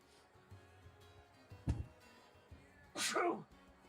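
A single sharp sneeze bursts out near the end, preceded by a brief thump, over a quiet room with faint background sound.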